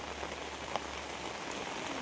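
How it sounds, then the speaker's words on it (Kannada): Heavy rain falls at a farm house, a faint, even hiss of drops on surfaces with a single brief tap standing out, steady throughout with no voices. "ಮಳೆ ಬೇರೆ ಬರ್ತಾ ಇದೆ."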